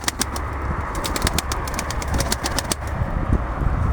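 Tumbler pigeons feed together, with soft cooing, sharp repeated pecking taps and brief wing flutters close by over a low background rumble.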